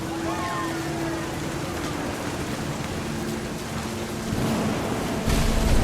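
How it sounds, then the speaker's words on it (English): A thunderstorm in the video game What Remains of Edith Finch gives a dense, steady hiss of rain with low rumbling that swells toward the end. A voice is faintly heard underneath. "The thunder sounded much too close and full of angry power."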